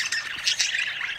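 A budgie gives a brief, harsh, scratchy squawk, close and alone, lasting about a second.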